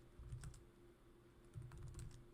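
Quiet computer keyboard typing in two short clusters of soft keystrokes separated by a brief pause, over a low steady hum, with no voices.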